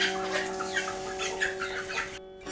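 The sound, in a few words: rooster crowing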